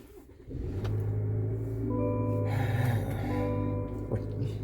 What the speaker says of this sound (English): we get in the truck, fire it up